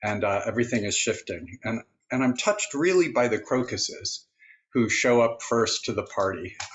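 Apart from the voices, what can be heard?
No distinct noise like a dog, phone or traffic.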